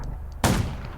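A single gunshot in the zombie survival game Undawn, a sharp loud blast with a short decaying tail over faint background game ambience.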